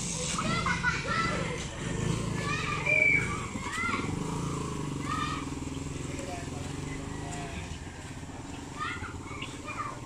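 Neighborhood kids play and chatter a short way off, their voices mixing with a steady motor rumble from nearby traffic.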